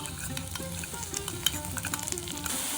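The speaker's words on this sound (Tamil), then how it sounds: "ரெண்டு நிமிஷம் இதை வறுத்துக்கலாம்" Soaked moong dal fries with cashews in a pan, a close, steady sizzle and crackle with light scraping of a stirring spoon throughout and one sharper knock midway, no voices.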